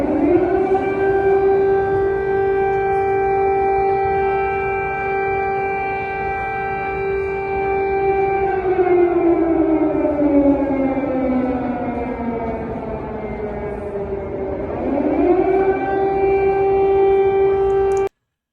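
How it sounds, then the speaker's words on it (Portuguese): Civil defense air raid siren wailing in Kyiv, a loud steady tone that slowly falls in pitch and then sharply rises back, sounding alone and fairly close with no voices. "Tem aqui a imagem da Irene, o som da sirene lá em Kiev"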